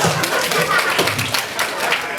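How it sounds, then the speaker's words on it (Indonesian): An audience claps together at a lively religious talk about caring for orphans, a dense, steady wash of hand claps filling the room for a couple of seconds. "Tepuk tangan."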